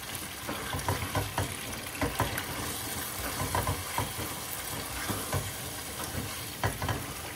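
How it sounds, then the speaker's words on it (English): Leftover hotdog reheating in a pan sizzles and crackles steadily, with repeated scraping stirs giving soft rhythmic bursts over the frying hiss, close and moderately quiet, no voices. "Sizzling hotdog."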